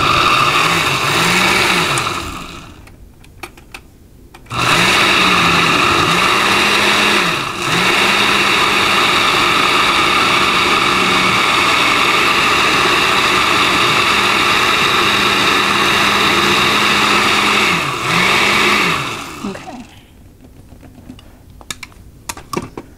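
A blender whirs loud and close while blending salsa, running in several bursts with brief pauses and dips in motor pitch, then stopping, with no talking.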